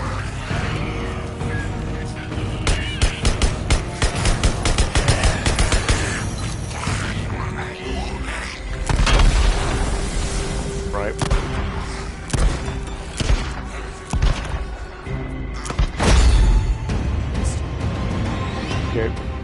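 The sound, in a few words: gunfire in the video game Days Gone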